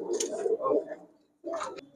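A pigeon, a club-tagged bird in a pigeon market, gives a couple of short soft coos close by, with a brief pause between bursts.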